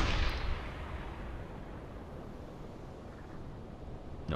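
A submarine's deck gun in the video game UBOAT fires at a ship, one heavy boom decaying into a long, rumbling, noisy tail with ambient sea noise, and a fresh blast starting at the end.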